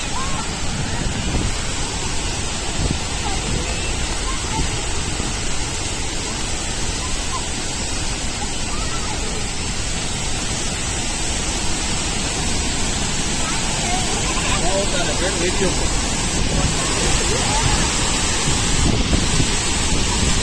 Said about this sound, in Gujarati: ઓહો હો હો જો અહીંયા સુધી જણ ઉડે છે એટલે આખા ભીંજાઈ જાય અને આ છે વોટરફોલ